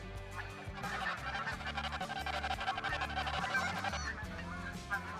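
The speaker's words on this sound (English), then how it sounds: "We've got a bunch more snow geese landing here." Snow geese in the Call of the Wild hunting game honk in a dense, overlapping flock chorus, steady and fairly loud throughout, with no voices over it.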